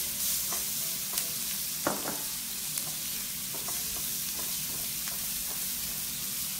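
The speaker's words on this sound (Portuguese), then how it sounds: "E vou pôr o jambu também pra refogar aqui." Jambu greens sauté in a pan, a steady soft sizzle with occasional stirring clicks and scrapes, close up and without talk.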